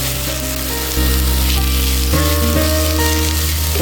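Ash gourd halwa is stirred in a hot pan, giving a loud, close, steady sizzle with a low rumbling undertone that shifts abruptly as the mixture is moved, and no voices over it.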